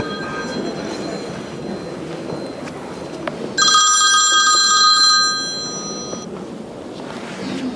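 A mobile phone rings loudly and close for a few seconds with a bright, warbling electronic ringtone during a religious lecture, interrupting a low murmur of room noise and voices that resumes once it stops.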